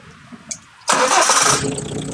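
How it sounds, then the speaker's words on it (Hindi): A CRDI diesel engine on a fault-simulator training rig cranks and catches after its fault is cleared. It follows a near-silent stretch with a couple of faint clicks, then settles into a loud, steady running roar. "ये देखिए, हमारा इंजन स्टार्ट हो गया और इसकी साउंड भी सही हो गई है"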